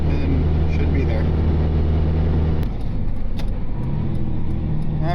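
A truck heading up a snowy mountain road, its engine droning steadily with a low hum and road rumble throughout, loud and close, easing in tone partway through.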